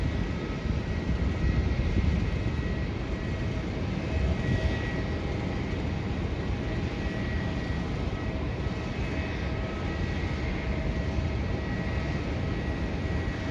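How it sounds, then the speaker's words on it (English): Qantas Boeing 737 jet taking off on a Sydney-bound departure, a loud sustained engine roar with steady broadband rumble that holds throughout, no voices over it. "Just taking off now is to Sydney, and that's a Qantas 737, Boeing 737."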